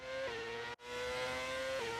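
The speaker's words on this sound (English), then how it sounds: "So this is the Alpine engine." Alpine Formula 1 car engine in a racing video game, a loud steady high-pitched engine drone with a gear change shifting the pitch, a brief dropout mid-way, then another shift, with no talking.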